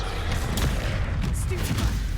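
Bombarda explosion spell in Hogwarts Legacy, a couple of short booming blasts over a dense, noisy combat background, moderately loud and near.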